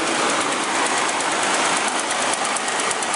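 A Ford 4.6 V8 engine in an Explorer or Mountaineer idling with its timing chain guides beginning to tick, a dense steady mechanical hum with a faint rapid clatter, close and alone.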